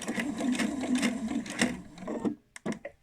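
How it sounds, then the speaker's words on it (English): A sewing machine runs a 1/8 inch seam on a fabric bowl cosy, whirring steadily and close for about two seconds, then stopping before a few short bursts of stitching. "I'm just going to do a 1/8 inch seam the whole way along, and I'm going to back stitch at the start here"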